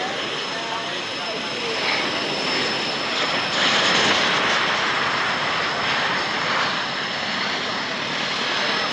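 Vintage warbird at the Biggin Hill Battle of Britain airshow in 1995, its aircraft engine a steady broadband roar that stays loud and constant throughout, with a voice commentating over it.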